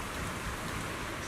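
Steady rain falls in a video game scene, a dense even hiss of drops on surfaces that continues without a break.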